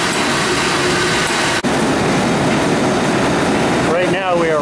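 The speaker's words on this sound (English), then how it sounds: "This is what the auxiliary condensate pump normally sounds like with steam from the auxiliary engines coming into it." Auxiliary condensate pump on the steamship SS John W. Brown running on steam from the auxiliary engines: a loud, continuous mechanical hum and churning roar in an engine room, briefly broken by a short knock.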